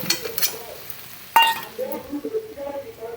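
Raw potatoes tipped and stirred into a frying spice paste in a metal pan for a jackfruit curry, giving a bright clink of a spoon or pan with soft sizzling and scraping under a voice.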